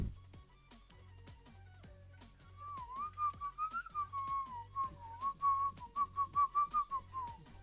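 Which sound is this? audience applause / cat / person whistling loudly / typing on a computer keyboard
person whistling loudly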